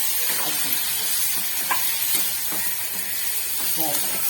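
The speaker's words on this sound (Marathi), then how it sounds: "त्याच्यानंतर ही वांगी आपली अशी वर खाली आपण करून घ्यायचं" Eggplants being stirred and turned in a pan of spice paste, with soft scraping strokes repeating over a steady bed of sizzling and hissing.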